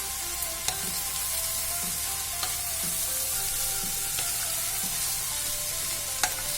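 Chicken fried rice sizzles steadily in a pan while a utensil stirs it slowly, with periodic scraping clicks and knocks against the pan over a constant frying hiss, close and moderately loud.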